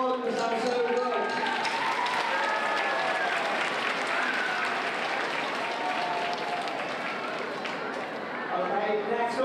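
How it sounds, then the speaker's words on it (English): Loud, sustained applause from an audience at an elementary school rock-and-roll music concert, clapping filling the whole stretch with cheering voices and chatter mixed in. "Sound big round of applause again for them, because that was so good."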